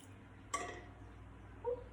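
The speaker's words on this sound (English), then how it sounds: "Did you hear the little clink?" A small object drops into a container of salt water with a faint, sharp clink, followed by a softer tap a moment later, in an otherwise quiet room.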